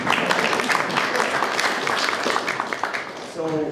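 An audience at a guitar clinic during the Frankfurt Musikmesse festival breaks into a brief, steady round of applause that fills most of the moment, fading near the end as a voice returns.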